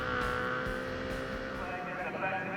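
Supersport race motorcycles rev their engines together on the starting grid at Winton in a Motul Supersport class race, a loud continuous engine drone that rises through the clip under a commentator's talk.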